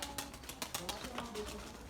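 Erzurum White breeding pigeons coo softly in their loft, faint and low, with light clicks and rustling among the birds.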